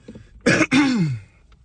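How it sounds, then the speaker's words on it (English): A single harsh throat clearing from a nearby man: a short rasp, then a longer, lower guttural scrape that trails off, in a quiet room. "I'm trying to get over this cough."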